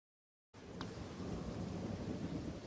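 Steady rain with a deep thunder rumble on the stormy ocean planet Kamino in Star Wars Battlefront 2 (2005), starting abruptly after a moment of silence and continuing as a dense, even wash.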